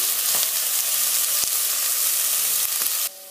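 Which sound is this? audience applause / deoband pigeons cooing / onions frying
onions frying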